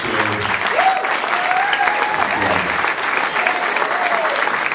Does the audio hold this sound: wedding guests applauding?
yes